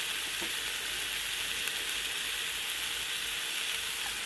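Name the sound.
garlic frying and sizzling in oil in a pan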